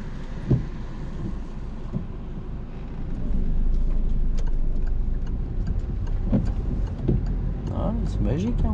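A car driving during a driving lesson gives a steady, close engine and road rumble that swells a little partway through, with voices speaking over it inside the cabin.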